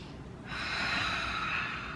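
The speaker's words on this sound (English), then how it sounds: "Take a couple nice cleansing breaths here" A deep cleansing breath during a gentle yoga flow class for Parkinson's, one close, steady breath that begins abruptly and holds for about a second and a half before easing off, with no talking.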